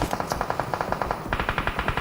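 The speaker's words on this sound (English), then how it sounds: "You can hear the gunshots raining out left, right, and centre." Rapid bursts of automatic gunfire in PUBG Mobile during a tournament match, a steady rattling rhythm of shots that intensifies partway through, loud and close.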